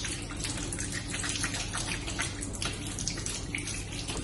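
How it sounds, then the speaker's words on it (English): Tap water runs steadily over soapy hands being rinsed, a continuous broadband splashing and gushing that holds for the whole stretch with no talk over it. "Make sure you rinse the soap off completely so that you wash away the virus."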